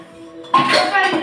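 A metal tava griddle pan clanks down onto a stovetop with a ringing clink, preceded by quiet kitchen rustling.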